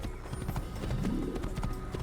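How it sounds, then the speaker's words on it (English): Horse hooves clip-clop in a steady galloping rhythm inside the video game Assassin's Creed, set in Damascus, with game ambience underneath and no speech. "It's actually really easy to ride horses as well."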